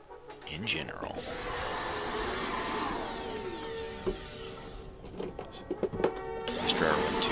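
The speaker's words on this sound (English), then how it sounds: "Get the vacuum." A vacuum cleaner runs continuously while dryer lint is cleaned up during repair of a Samsung dryer that is not heating, a steady loud whine with brief clunks and handling noises toward the end.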